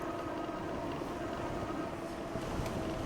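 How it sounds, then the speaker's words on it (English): Steady broadband air rushing and wind buffeting roar continuously over a rider's ears on a Mokwheel Tarmac e-bike, with no talking. "I hear more of the air rushing over my ears than I do from the bike."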